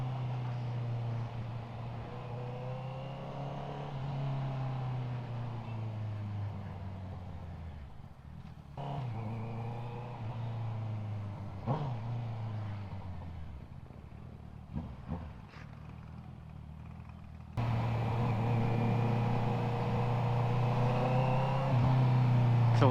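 A Honda CB650R E-Clutch motorcycle with an Akrapovic exhaust rides through city traffic, its engine drone rising and falling through gear changes, steady and near, with a louder stretch near the end.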